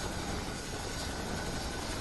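Rescue helicopters fly over the cloudburst disaster site at Dharali in Uttarkashi, giving a steady, loud, unbroken drone of rotors and engines that fills the whole stretch, with no voices.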